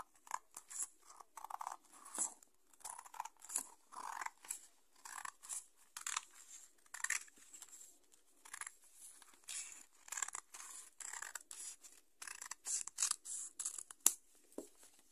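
Scissors snip repeatedly through fabric while a circular skirt pattern is cut out, giving close, quiet, irregular bursts of cutting and rustling with short pauses, and no talk.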